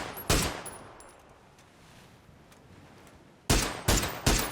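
Gunfire in the battle royale game PUBG: a single loud shot, then a quiet stretch, then three sharp shots in quick succession, close and punchy.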